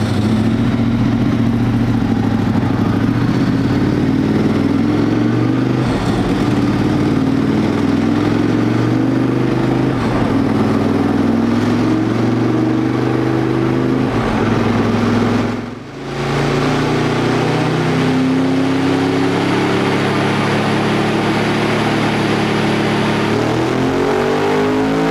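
Motorcycle engine on a dynamometer during a dyno day, revving hard and continuously through rising and falling pitch sweeps for about 25 seconds, with one brief dip near the end of the pull, loud and close.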